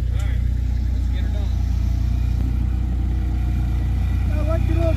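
A small tractor's engine runs at a steady idle close by, a low continuous rumble throughout, with people talking faintly over it during junk removal work.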